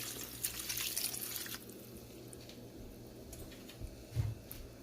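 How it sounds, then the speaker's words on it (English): Water poured into a cooking pot of bitterleaf soup with meat, a faint splashing trickle in a quiet kitchen that rises briefly near the start and again toward the end. "I'm going to add some water now."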